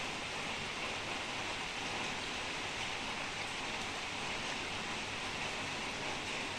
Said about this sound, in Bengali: সারাক্ষণ ধরে চলছে বৃষ্টি